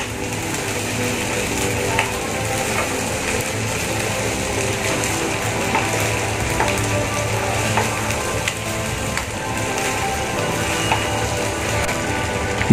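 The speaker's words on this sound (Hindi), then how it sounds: "अभी हम लोग इसको अच्छे तरीके से मिक्सिंग कर देंगे।" Chickpeas are stirred and fried in a pan, giving a loud, continuous sizzle with steady scraping and clicking from the stirring spoon.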